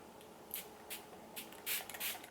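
A Smashbox Photo Finish Primer Water face mist is sprayed in several short, soft hissing bursts, quiet and close, the later puffs coming in quick succession.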